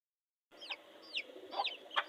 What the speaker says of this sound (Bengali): এই দেখুন আমার মুরগি, সে মাশাআল্লাহ অনেক বড়